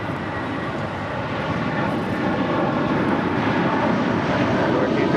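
An airplane takes off at LAX airport, its engines roaring in a loud, steady, broadband rumble that holds without break from start to finish and drowns out everything else.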